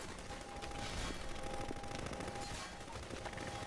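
Enemy gunfire in Half-Life 2 rattles in a steady, continuous stream, faint and somewhat distant, with no one talking.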